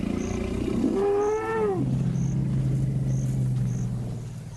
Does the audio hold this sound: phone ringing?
no